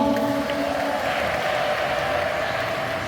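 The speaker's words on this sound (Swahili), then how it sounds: "Wapigieni makofi Bwana Rita hawa." A church congregation applauds during a Catholic Mass in a parish hall, sustained even clapping from many hands filling the whole moment at moderate loudness.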